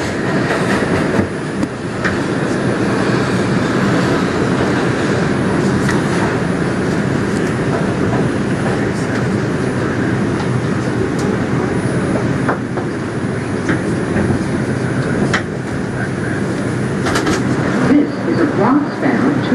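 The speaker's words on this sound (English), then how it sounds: "Bronx-bound 2 express train." Interior of a New York City R142 subway car on the 2 express line, with steady loud rumble and rattling wheel noise throughout, occasional clacks over rail joints, and an automated announcement voice speaking over the ride.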